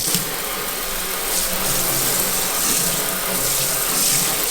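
Faucet water pours steadily into a 32-inch farmhouse apron-front sink, producing a continuous broad splashing rush that stays even and fairly loud throughout with no talking.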